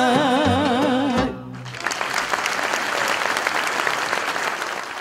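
A sung phrase with music cuts off and a live show audience breaks into sustained applause, dense steady clapping that carries on to the end.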